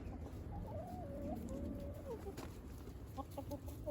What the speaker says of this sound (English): here's that chicken.